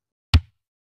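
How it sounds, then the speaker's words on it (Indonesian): One kick drum stroke on a real drum kit, a short dull low thump that dies away quickly, heard alone and close. "Kemudian, ketuk kick."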